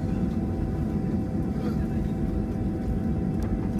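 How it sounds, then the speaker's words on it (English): Cabin rumble of a China Southern Boeing 737-700 airliner taxiing after landing in Guilin, a steady low engine drone heard from inside, with faint background voices. "our plane has just arrived and is still taxiing now"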